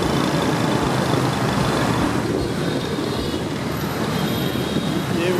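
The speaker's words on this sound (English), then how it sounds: "But watch how we get into this traffic here." Dense, continuous roar of motorbike and street traffic in Ho Chi Minh City, steady engines and road noise filling the air from close by with no break.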